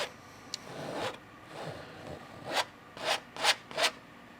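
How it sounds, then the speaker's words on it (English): A palette knife scrapes excess oil paint off a canvas during a mountain landscape painting, giving a series of short, dry rubbing strokes that grow louder and quicker toward the end, with no voices. "I'm just scraping the extra paint there."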